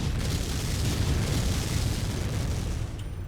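Mech weapons firing in MechWarrior 5 during a battle against a Shadowhawk and Wolverine, a steady dense roar of booming blasts lasting throughout, loud and continuous, easing slightly at the end.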